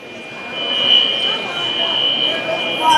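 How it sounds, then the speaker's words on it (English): A fire alarm sounds inside an ice rink building during a minor hockey semi-final game, a steady high electronic tone held for the whole stretch, with people talking underneath. "are fire alarms all over the building, and there has been false alarms here before"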